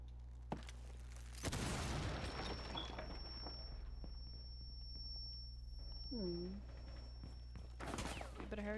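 A breach charge explodes in Rainbow Six Siege gameplay, a loud broadband burst near the start followed by rumbling blast debris and scattered gunfire, with a sustained high whine and brief voice chatter late on.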